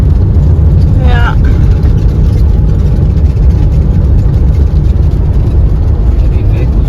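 Heavy vehicles rolling fast along an outback road in central Queensland near Cloncurry, a constant loud low engine and tyre rumble with wind noise, a brief chirp early on, and people talking over it.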